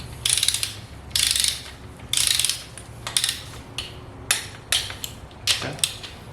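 A ratchet torque wrench clicks in quick bursts while tightening engine bolts on a 2013 Genesis Coupe 2.0T rebuild, close and crisp, with several rapid ratcheting runs followed by slower single clicks.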